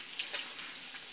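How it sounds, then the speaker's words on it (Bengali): Chicken pieces frying in oil in a pot give a steady, close sizzle with scattered sharp crackles and pops throughout. "মাংসগুলো ভেজে নেব"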